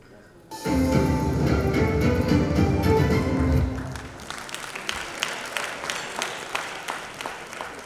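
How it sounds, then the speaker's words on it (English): Audience at the Social Innovators Programme and Awards 2022 breaks into loud applause after a session, a dense burst of clapping with music underneath that thins into scattered, lighter claps as it fades. "A round of applause one more time for that session."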